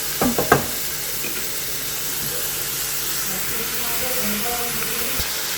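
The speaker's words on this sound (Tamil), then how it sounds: "வெங்காயம் உள்ளே சேர்த்துட்டு நல்லா மிக்ஸ் பண்ணிக்கலாம்." Finely chopped onions tossed into hot oil and stirred, a few sharp clatters at the start giving way to a steady, close sizzle that hisses on without a break.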